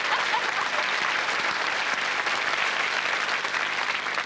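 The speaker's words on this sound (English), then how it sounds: "Give her a round of applause." A studio audience at a Las Vegas comedy chat show claps in sustained, even applause that fills the space steadily throughout, without voices breaking through.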